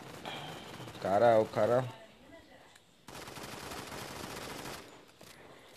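In the Modern Combat 5 video game, someone speaks briefly, then a turret fires a sustained burst of rapid gunfire that runs for a couple of seconds at moderate loudness.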